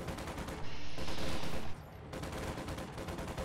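Dense video game battle gunfire from PPSh submachine guns and Mosin-Nagant rifles, a steady loud rattle of overlapping shots and explosions with no pause across the stretch.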